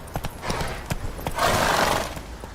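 Geralt's horse Roach runs in The Witcher 3, with close hoof clip-clops in a quick uneven rhythm and a breathy whinny swelling briefly in the middle.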